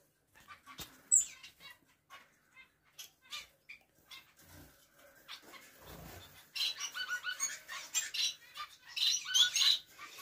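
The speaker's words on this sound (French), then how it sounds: "c'est le couple de moineaux du Japon avec un deuxième mâle" Japanese sparrows (society finches), a pair with a second male, chirp and squawk softly in a cage, with scattered faint calls that grow busier toward the end and some light knocks.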